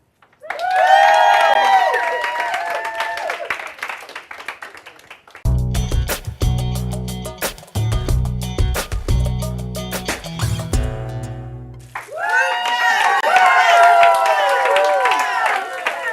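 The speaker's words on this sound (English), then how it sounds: "with a big, loud round of applause for Tori for the great job she's doing" A studio audience on a culinary cooking show claps and cheers in two bursts, loud and close, with a stretch of upbeat music between them.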